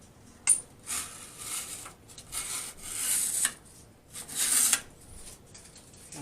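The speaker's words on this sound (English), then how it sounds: "we're just peeling the tape off right now" Repeated soft ripping and rubbing as tape is peeled off an acoustic guitar body during a Fishman PreSys 301 pickup install, coming in several short strips up close in a quiet room.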